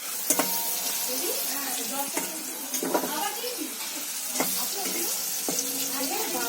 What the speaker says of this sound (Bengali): এখানে ভাজা ভুজি হচ্ছে